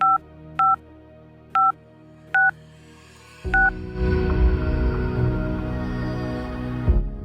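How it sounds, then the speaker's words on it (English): A telephone keypad is dialed, with five short evenly spaced two-tone beeps in a quiet room, followed by a louder burst of hissing line noise or ringing that lasts a few seconds. "she picked up a telephone laying on the table and dialed a number"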